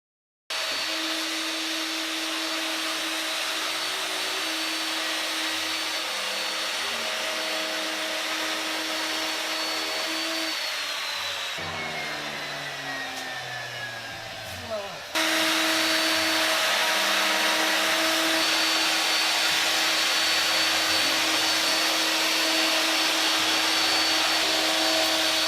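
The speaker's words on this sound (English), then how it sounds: "use that as a guide and a reference for my router to run against and cut this full thickness in one pass" A router trims the edge of a hard maple table top in one pass, a loud steady high whine that dips and changes pitch midway as the bit bites, then resumes at full drone, no talk.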